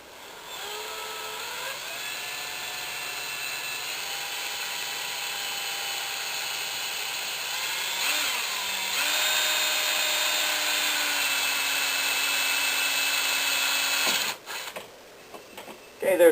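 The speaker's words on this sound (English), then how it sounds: "Just going to go ahead and drill these in." A power drill whines steadily for several seconds while drilling holes to install a Versaspeed grille, pitch shifting as it bites in, then stops with a clatter.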